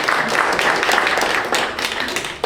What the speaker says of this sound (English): round of applause for all the wonderful students, journalists, photographers